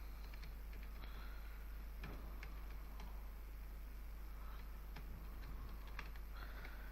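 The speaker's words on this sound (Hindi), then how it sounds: "पहले टाइपिंग कर रहे हैं" Typing on a computer keyboard while entering text in an MS Word document, heard as faint, sparse key clicks spread across a quiet, steady background hiss.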